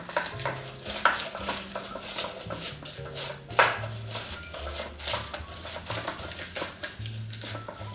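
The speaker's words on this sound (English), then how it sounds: "Grate your onion." An onion is rubbed against a hand grater fitted with a guard, giving steady, repeated scraping strokes close by with occasional sharper knocks, over quiet background music.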